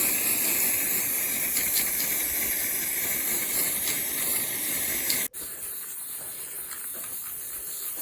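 A spray paint can sprays continuously outdoors, producing a loud, steady hiss that breaks off briefly and then resumes slightly quieter.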